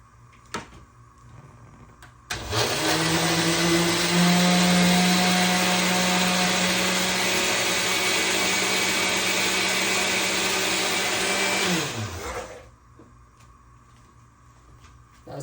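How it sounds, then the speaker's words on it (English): A kitchen blender whirs through onion and peppers loosened with a little water, starting abruptly, running at a loud steady pitch for about ten seconds, then winding down and stopping, with quiet room sounds before and after. "This onion and peppers, I'm gonna blend it in a blender."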